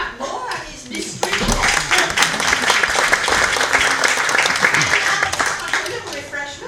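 Audience applause in a pub-style music hall performance, a few scattered claps at first, then a loud burst of clapping with cheering voices that carries on, mixed with lively chatter.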